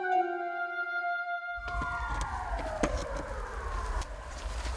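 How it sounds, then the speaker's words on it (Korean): A siren from a boat arriving at a small uninhabited island, rising and falling tones that start clear and alone, then blend into wind and rumbling noise as the vessel draws nearer. "정막을 깨는 사이렌 소리"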